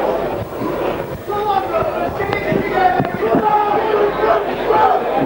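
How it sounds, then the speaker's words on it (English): A rugby league crowd at a 1999 Barrow v Hull KR match shouts and roars in a loud, steady swell of many voices, with individual cries rising above the mass. "The crowd is starting to change now."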